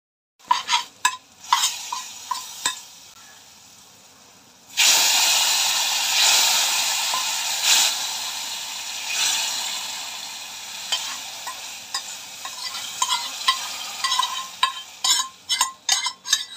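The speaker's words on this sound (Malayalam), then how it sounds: "കടുക് വറുക്കാൻ നേരം ഞാനൊരു 2 അല്ലി വെളുത്തുള്ളി ചെറുതായിട്ട് അരിഞ്ഞ് അതുകൂടെ ഒന്ന് കടുക് വറുക്കാൻ നേരം" Mustard seeds and finely chopped garlic fry in a hot pan for a fish curry, a steady sizzle broken by sharp spattering pops and stirring scrapes, loud and close with no voices.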